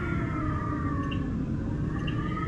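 A Roblox school bus engine, a 2024 Blue Bird Vision, drones with a steady, even hum and faint tonal overtones, constant and unchanging throughout with no talking.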